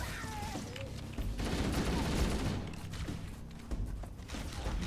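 Rapid bursts of weapon fire and impacts in a co-op session of Halo: Combat Evolved, dense and moderately loud, with faint voices underneath.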